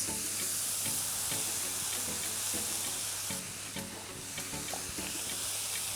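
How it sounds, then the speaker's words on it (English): Mushrooms frying on high heat in a pot for a vegan one-pot shepherd's pie, a steady loud sizzle with repeated scraping stirs throughout. "Add your mushrooms."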